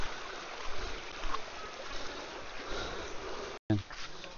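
Steady rushing of river water during a motorcycle river crossing on a Bicol ride, a continuous broadband wash that fills the clip, broken by a brief dropout near the end.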